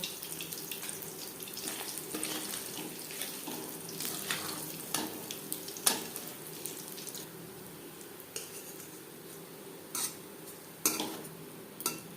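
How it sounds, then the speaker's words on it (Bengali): Small puti fish frying in hot oil in a pan, a steady crackling sizzle running throughout with scattered louder pops and spits, close and alone without any voices. "প্রথম ব্যাচের মাছ ভাজা হয়ে গেছে"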